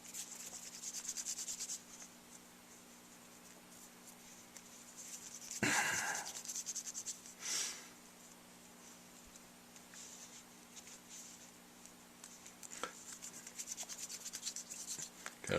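Five-minute quick-set epoxy putty is kneaded by hand, giving soft, close rubbing and squishing sounds in a few brief bursts over a steady low hum, with no talking.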